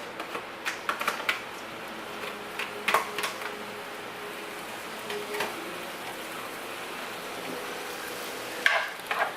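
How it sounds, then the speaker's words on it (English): Sliced peppers sauteing in a pan for chicken enchiladas give a soft steady sizzle, broken by scattered sharp clicks and scrapes of a utensil stirring against the pan, close with no talking. "kind of get this soft and sauteed down just a little bit"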